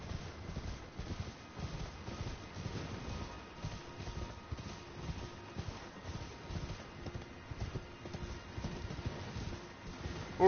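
Horse hooves clip-clopping at a steady walking rhythm in a video game, continuous and close throughout.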